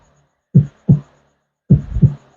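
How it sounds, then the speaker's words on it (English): Two pairs of soft, low lub-dub heartbeat thumps, close and alone, with a brief gap between the pairs and a steady periodic rhythm. "You can imagine your heartbeat. It goes,"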